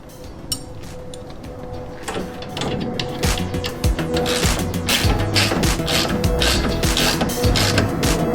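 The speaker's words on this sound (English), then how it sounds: "Just going around now and tightening down all of these bolts." A ratchet tightens bolts on a car's big rear wing. Rapid clicking bursts repeat over a steady background hum, growing busier and denser as the work goes on, all close by.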